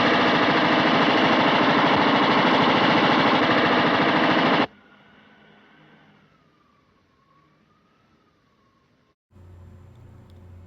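A Tommy gun fires a sustained, loud burst of automatic fire in a 1931 mob film, continuous for several seconds before cutting to near silence with a faint wavering tone and a low rumble at the end.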